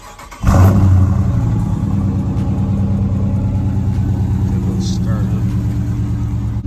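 A 2018 Dodge Challenger engine cold starts with a sharp burst, then settles into a loud, steady, rumbling high idle that holds close to the microphone until the end.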